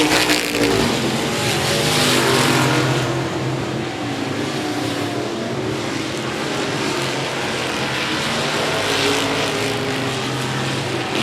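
Race cars circle a speedway oval in a regular race program, a loud continuous roar of engines that swells and fades as the pack passes, with no voices over it.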